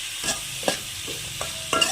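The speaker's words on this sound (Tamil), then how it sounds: "வெங்காயம் நல்லா பொன்னிறமாக வதங்கட்டும்" Onions sauté in a pan for tomato sambar, a soft, steady sizzle broken by several scraping stirs of a spoon, close and clear with no voices.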